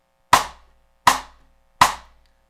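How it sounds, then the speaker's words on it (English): Three evenly spaced cross-stick strikes on a drum using the back end of the stick, each a sharp, dry, woodblock-like click with a short ringing decay, close and alone. "using the back end of the stick sounds like this."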